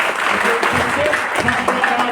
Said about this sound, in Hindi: आप खुद एक बार जोरदार ताली बजाएं